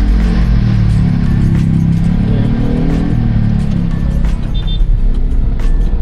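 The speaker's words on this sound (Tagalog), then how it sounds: "Grabe traffic dun." Heavy road traffic rumbles loud and steady around a moving 2000 kg Lalamove Traviz truck, a continuous engine drone with passing vehicle noise and no talking.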